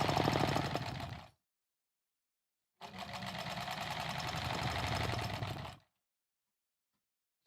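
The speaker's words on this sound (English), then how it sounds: "This feels good to be sewing this quilt together" A sewing machine stitches quilt blocks together in two separate runs, a short burst and then a longer steady one, each with a rapid even needle chatter, close and clear with silent pauses between.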